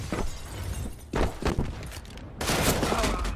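Gunfire in the game CS:GO comes as several sharp, loud bursts in quick succession, with a heavier sustained volley near the end.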